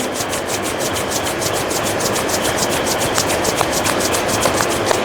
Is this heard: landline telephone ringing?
no